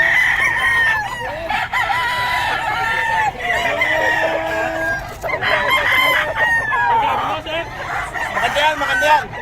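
Several roosters crow loudly and repeatedly at a fowl market in Bocaue, their calls overlapping, with clucking fowl in the background.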